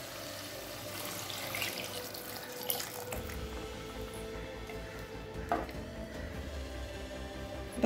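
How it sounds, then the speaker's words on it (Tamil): Tap water runs steadily into a pot of potato kurma on the stove, a continuous splashing pour that stays level throughout with no talk. "தேவையான அளவு தண்ணி சேர்த்துக்கலாம்"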